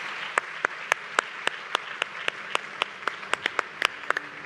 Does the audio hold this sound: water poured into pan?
no